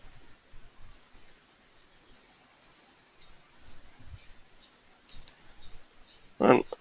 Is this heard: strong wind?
no